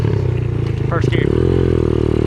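A Yamaha PW80 pit bike converted to 140cc rides in first gear, its engine giving a loud, close, buzzing drone that rises in pitch, with a voice talking briefly over it.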